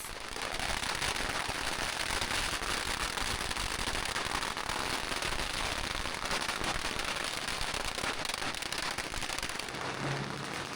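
Firecrackers going off in a dense street festival crowd around a palanquin procession, heard as a constant, loud, crackling roar of overlapping bangs that continues without pause throughout.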